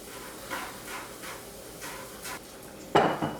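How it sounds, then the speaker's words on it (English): Fresh ginger sauteing in the bottom of a pot, soft repeated sizzling swishes as it is stirred, ending in a louder clatter of a utensil against the pot, close and fairly quiet. "we're gonna add this into the bottom of our pot as well to just start sauteing it down a little bit"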